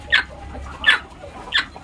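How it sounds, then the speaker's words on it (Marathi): Hens sitting in the egg-laying section of a low-cost poultry setup give three short, evenly spaced clucks, fairly close over a quiet background with no talking. "तर अंडी घालण्यासाठी इथं बसलेले आहे कोंबडी"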